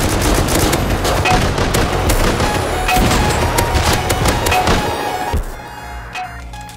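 Explosive-bullet gunfire in the survival game Rust crackles and booms loudly and almost nonstop in rapid bursts, then thins out near the end.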